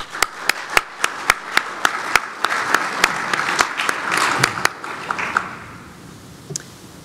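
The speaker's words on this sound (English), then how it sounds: "Please join me in a welcoming round of applause for them" A conference audience claps to welcome panelists at a risk-informed decision-making session, with crisp, evenly spaced loud claps from a nearby hand over softer crowd applause that thins and fades toward the end.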